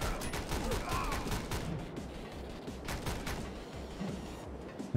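Rapid, steady gunfire from the video game Speed Limit, a continuous fusillade of close, crackling shots over a few seconds, with no pause and no voices.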